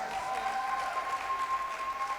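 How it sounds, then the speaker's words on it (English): A room full of attendees at a personal development session applauding, a continuous moderate wash of clapping with a faint steady tone running beneath it. "Please give yourselves a round of applause"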